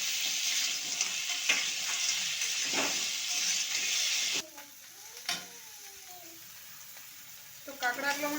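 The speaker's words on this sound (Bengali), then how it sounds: "কাঁকড়াগুলো হাই আছে ভালো করে একটু ভেজে নেব।" Crabs fry in hot oil in a pan for Bengali kakra kosa, a loud continuous sizzle with stirring scrapes, then quieter bubbling with a few sharp clicks and clatters near the end.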